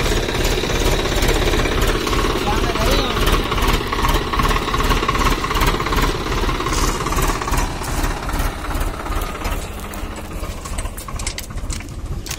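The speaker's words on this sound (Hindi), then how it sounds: "और तीसरा लो लगा दिया भाइयों" Swaraj 744 XT tractor engine pulling a fully loaded trolley of wet manure in third low gear, a loud, rapid, steady diesel knock that eases slightly toward the end, with no talking.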